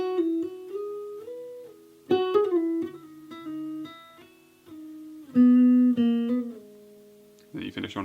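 An electric guitar plays the final solo line of a song, with clean single notes and bends descending to sustained low tones before a brief voice at the end.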